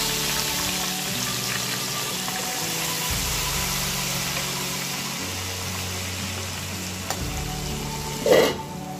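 Washed tomatoes fry in hot oil with cumin and a cracked cardamom, giving a steady close sizzle with occasional stirring scrapes, a low engine-like hum underneath and a brief louder clatter near the end, with no talking.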